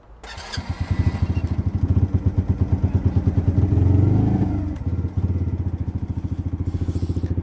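A cold motorcycle engine idles on choke while warming up, starting with a brief crank, then a fast steady thumping putter close by, swelling slightly in the middle before settling back to an even beat.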